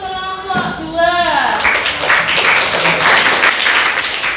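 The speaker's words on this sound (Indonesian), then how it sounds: "Oke, tepuk tangan untuk kelompok 2." A classroom of students claps for the second group after a presentation, a dense steady applause that swells in after a brief stretch of talk at the start and carries on loudly to the end.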